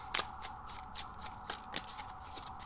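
Tarot cards being shuffled by hand: a quick, rhythmic run of soft riffling flutters that goes on for nearly three seconds, close and fairly quiet, over a steady faint background tone, with no one speaking.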